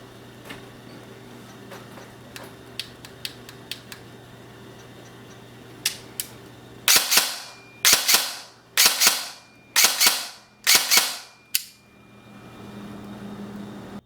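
A Poseidon AEG V2 airsoft gun fires single shots on semi-automatic: about six sharp, loud cracks at roughly one-second intervals, preceded by a few lighter mechanical clicks.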